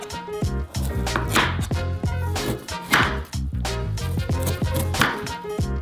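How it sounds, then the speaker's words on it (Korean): A knife chops frozen bacon repeatedly against a board in quick, uneven strokes, close and fairly loud, with music playing underneath. "불필요한 살을 자르고 냉동 베이컨을 잘라서 접시에 놓은 다음"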